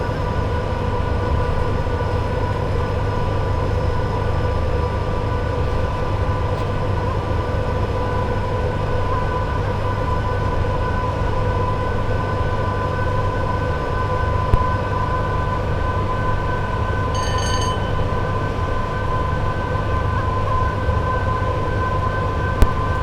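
Two Class 87 electric locomotives haul a Freightliner train in Train Sim World 6 over Shap on the West Coast Main Line, a loud, steady rumble with constant electrical tones and occasional faint clicks, with no talking.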